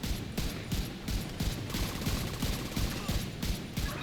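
Rapid bursts of rifle fire from the Bittersweet exotic rifle in The Division 2, a steady string of sharp, evenly spaced shots repeating close and loud for several seconds.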